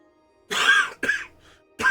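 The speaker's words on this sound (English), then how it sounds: "my allergies have not settled down this week at all, so lots of coughing and throat clearing and such." A person with allergies coughs and clears their throat, three close, harsh bursts separated by short pauses, nearby and fairly loud.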